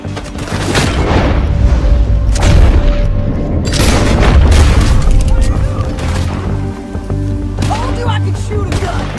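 Gunfire and booming shots in a Red Dead Redemption 2 shootout, loud and continuous with repeated bursts layered over game music, while characters talk throughout.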